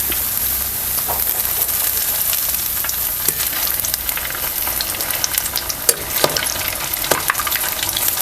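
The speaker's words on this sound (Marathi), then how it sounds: "चांगलंसं आपल्याला तळून घ्यायचं आहे" A semolina and potato snack frying in oil crackles and spits steadily, with scattered sharp pops and faint scraping as the pieces are turned, and no voices.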